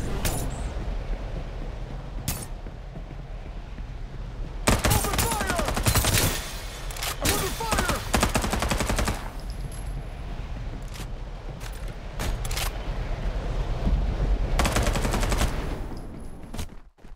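Automatic gunfire in the battle game Farlight 84, loud rapid bursts repeating through the stretch with brief pauses and some distant shots between them.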